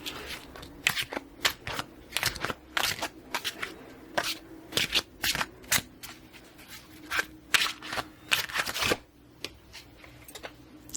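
A Star Spinner tarot deck is shuffled close up in quiet ASMR style, with repeated crisp riffling bursts and soft card slaps at an uneven rhythm against a low hum.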